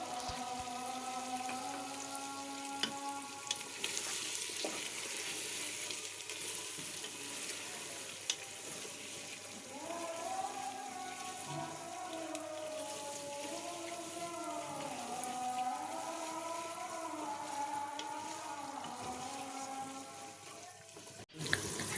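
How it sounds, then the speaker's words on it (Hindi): Potatoes and peas frying in oil in a pan: a soft, continuous sizzle with occasional stirring clinks, accompanied partway through by a droning, wavering background sound, all fairly faint. "मटर डालने के बाद अगेन इसको दोबारा हम भूनेंगे"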